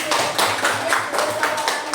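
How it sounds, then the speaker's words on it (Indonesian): Classroom clapping from fifth-grade students during a science lesson on magnets, a steady run of rapid, uneven hand claps spread across the group, fairly close and continuous with a murmur of voices underneath. "Beri tepuk tangan"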